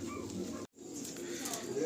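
Pedigree pigeons from a Bengali loft coo in low rolling phrases, close by, briefly cut by a short silent gap before the cooing resumes.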